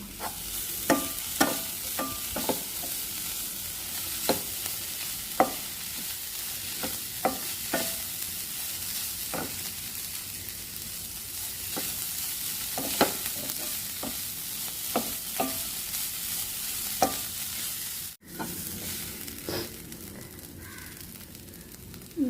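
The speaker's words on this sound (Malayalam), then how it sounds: "3 മിനിറ്റ് ഹൈ ഫ്ലെയിമിൽ വെച്ച് കണ്ടിന്യൂസ് ആയിട്ട് ഇളക്കി കൊടുക്കുക." Carrot thoran with coconut paste frying on high flame, stirred continuously in a pan: a constant loud sizzle with regular close scrapes of the spoon, and a few caws of crows outdoors.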